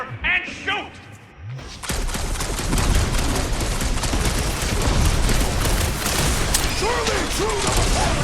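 Sustained rapid gunfire and mechanical clatter in a Guardians of the Galaxy combat scene, loud and dense after a short quieter stretch, with characters' voices shouting over it.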